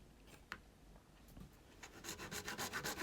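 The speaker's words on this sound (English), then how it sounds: "So just cut your trunking down nice and level." A small hacksaw cuts through plastic D-line cable trunking, starting with a few scattered scrapes, then settling into quick, regular back-and-forth rasping strokes up close.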